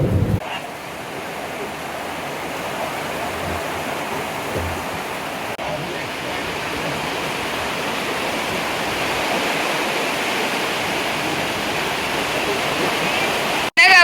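Heavy rain pours steadily in a village during early evening, a dense continuous hiss of falling water that stays loud and even throughout with no voices.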